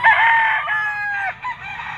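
A bull stag gamefowl rooster of Boston sweater bloodline gives one loud, close crow, a drawn-out strained call that breaks near the end, with light background noise.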